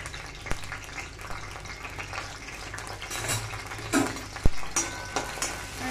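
Chopped garlic cloves and ginger sizzle in hot oil in a pan while being stirred, a continuous frying hiss broken by a few sharp clinks of a utensil against the pan.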